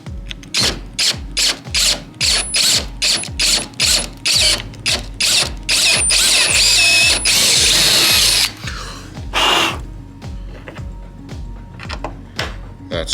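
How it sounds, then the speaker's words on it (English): A power drill enlarging a hole for bolts while fitting off-road parts to a Porsche Cayenne: loud, close, rhythmic bursts of revving and grinding, then a sustained whine of cutting before it stops and starts again. "start drilling this out so I'm able to fit the bolts"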